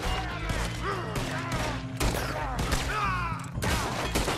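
Rapid, overlapping gunshots crack through a Red Dead Redemption 2 shootout, dense and close throughout, with voices talking and shouting amid the firing.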